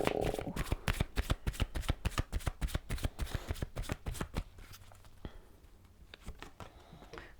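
Romance Angel Oracle cards shuffled by hand, a fast, even flutter of close riffles for about four seconds, then a few softer card taps and handling sounds, no voices.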